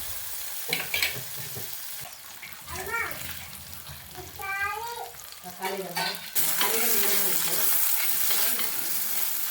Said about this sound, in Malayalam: ഒരു തണ്ട് കറിവേപ്പില കൂടി ഇട്ട് കൊടുക്കാം. പിന്നെ നന്നായിട്ട് ഇളക്കി ഒന്നും കൂടി വഴറ്റിയെടുക്കാം